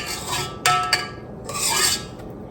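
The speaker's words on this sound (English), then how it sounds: "I'm going to scrape down the sides because I do have, as you can see, butter that's accumulating on the sides of the container" A mixer's scraper blade scrapes butter off the sides of a container of gingerbread cookie dough. Close, rasping scrapes come in two bursts with a short lull between them, and no one talks.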